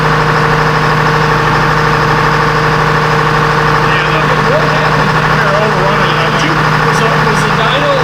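A 453 Detroit diesel engine roars steadily under load on a dyno, loud and droning with a constant low rumble, while people talk faintly over it.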